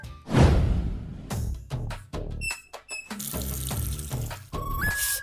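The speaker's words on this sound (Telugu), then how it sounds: "ట్యాప్ లో నీళ్ళు వేడికొచ్చేస్తున్నాయి" A short gush of hot water from a tap, followed by whistling tones and clattering sounds.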